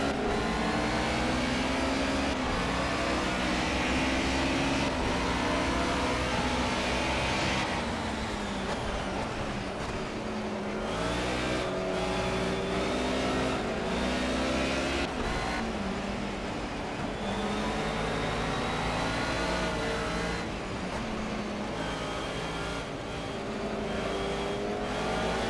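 A Mercedes 190E racing at Brno in the rain in Project CARS, its engine rising and falling continuously in pitch through repeated shifts and feathered throttle coming out of corners, close and steady, with no voices.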